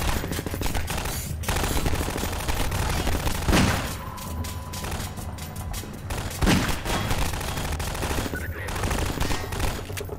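Rapid automatic gunfire from a scoped weapon in Half-Life 2 plays as sustained loud bursts, with a couple of heavier shots standing out, over a dense game soundscape.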